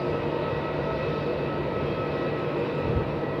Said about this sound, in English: We got a Fiji just about to depart. Just been given takeoff clearance there.